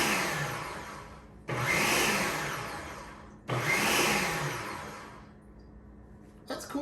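A Ninja Professional 1000-watt food processor on its chop setting, running in three loud whirring bursts of about two seconds each, with brief pauses between them and the motor pitch sagging through each pulse, close up and with no talk.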